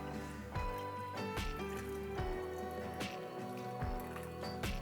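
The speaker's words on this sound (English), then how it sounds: "let's get some more water in this. This is not boiling water, it's just tap hot water." Hot tap water poured into a yarn dye pot gives soft splashing, trickling and dripping with a few sharp tonal drips, close and fairly quiet, without speech.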